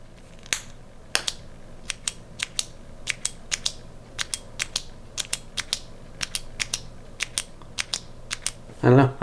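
Sharp clicks from the tail switch of a Reylight Pineapple Mini flashlight, clicked repeatedly at an uneven pace, close and crisp, with a brief louder bump at the very end.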